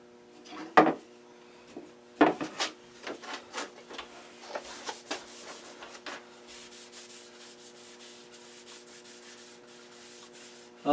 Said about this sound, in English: So I'm going to just wipe it down with the lacquer thinner.